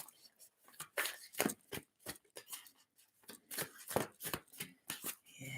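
Playing cards are shuffled and riffled by hand in quick, soft bursts of flicking and pattering, close and fairly quiet, with a voice speaking in the background.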